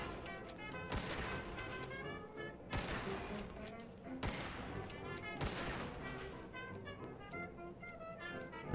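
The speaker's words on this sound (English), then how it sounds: "Let me get back to shooting things." Gunfire in the video game Fallout 4, a series of sharp shots spaced a second or so apart, fairly close, over a low game ambience.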